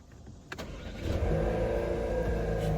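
A car engine cranks briefly and catches, settling into a steady, loud idle rumble.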